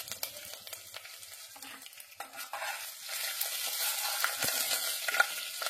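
Cumin seeds, curry leaves and one or two dry red chillies sizzle in hot oil for a tempering, with stirring and hissing spatter that grows louder and denser toward the end, close up with no talk.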